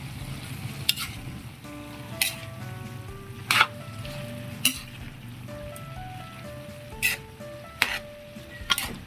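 A banana heart dish with vinegar boiling in a pan while being stirred, a steady bubbling sizzle broken by a few sharp utensil clinks against the pan, close and alone.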